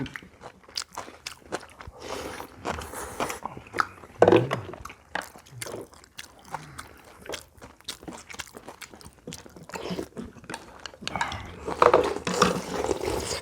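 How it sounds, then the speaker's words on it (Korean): Crunchy cabbage kimchi is bitten and chewed up close during a meal of kimchi dumpling hot pot, with repeated crisp bites and wet munching in irregular bursts. "배추가 아삭아삭 씹히는 게"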